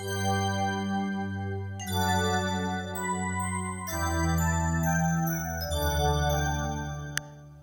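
A Roland GO keyboard playing its D50 Fantasia synth patch: bright, bell-like chiming chords with shimmering high overtones, changing every couple of seconds and ringing out sustained, loud and alone.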